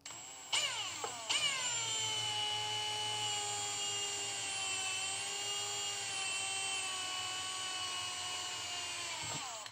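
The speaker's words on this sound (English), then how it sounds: "And what I pretty much do is I drill this area right here." A power drill whines steadily while boring into an RC car A-arm, spinning up with a rising pitch, then holding a loud sustained high tone before winding down at the end.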